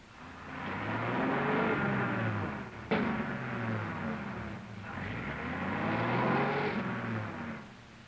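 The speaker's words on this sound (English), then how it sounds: "He shifts into high gear." A 1927-1943 Studebaker car on a test run hums with a steady engine drone that drops and swells again through a gear shift, with one sharp click partway through and no speech.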